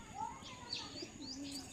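A Giribaz pigeon gives a soft, faint coo with a few light chirping notes on a quiet rainy day, heard up close over a low background hum.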